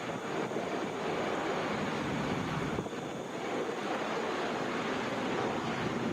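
Delta Boeing 757 airliner bound for St. Louis at Atlanta airport, heard as a broad, steady roar washing over the scene for several seconds, blended with heavy wind noise, no talk.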